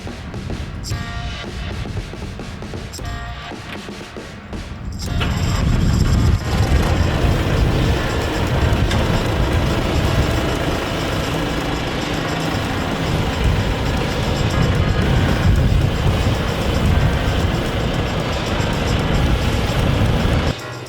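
An NT-1500 loader built on a KIY 90 hp tractor runs with a loud, steady diesel rumble close by, the engine swelling and revving up after a few seconds, then holding a dense, continuous drone with no talking.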